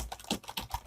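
Quick, uneven keystrokes on a computer keyboard, close and fairly quiet, typing a run of characters into a web form with no talking.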